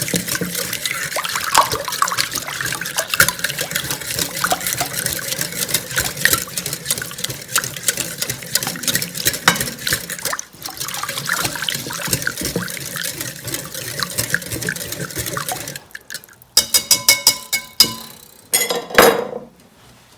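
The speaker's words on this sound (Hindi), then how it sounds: "अब इसके बाद आपको थोड़ा सा पानी ऐड करना है, आधा कप। इसको अच्छी तरह मिक्स कर लेना।" Lukewarm water is poured into pizza dough (about 600 g of flour) and worked in by hand, giving steady wet sloshing and squelching, followed by a few sharp clinks near the end.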